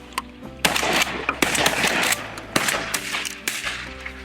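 Shotguns fire during a waterfowl duck hunt in North Dakota, giving a rapid series of sharp, loud reports with short echoing tails, about a dozen shots in just over four seconds and no talking.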